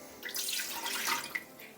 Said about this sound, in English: got to add 250 mils of water